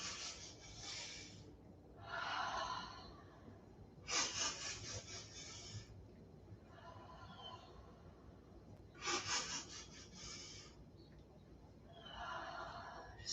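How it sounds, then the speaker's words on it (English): A person practices staccato breathing during qigong: clusters of short, quick nasal sniffs alternate with breathy exhales through the mouth, repeating in several rounds, close and fairly quiet. "it's a nice wake-up breathing pattern is called staccato breathing. And that's short little inhalations through the nose and then let it out on a side through the mouth"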